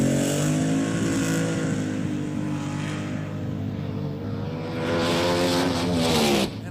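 A powerful rear-engine top-fuel dragster, 1971, roars loudly and steadily with a harsh harmonic drone, rising in pitch near the end as it revs hard.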